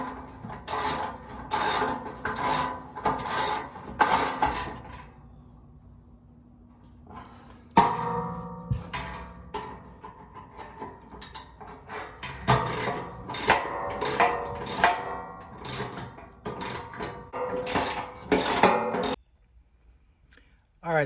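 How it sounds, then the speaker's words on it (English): Socket wrench ratcheting bolts snug on a 2016-or-later Toyota Tacoma during an oil and filter change, giving repeated bursts of rapid clicking with short pauses, close and fairly loud. "take your 12mm socket wrench and tighten all 4 of those"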